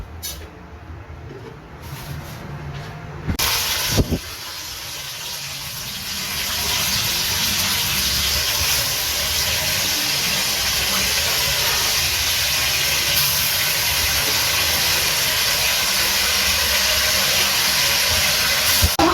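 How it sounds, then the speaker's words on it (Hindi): White cumin seeds hitting hot oil in a pan produce a loud, steady broadband sizzle that swells after a brief clatter and keeps hissing without pause, with no voices. "ऑयल गर्म हो चुका है। अब हम इसमें ऐड करते हैं सफेद जीरा।"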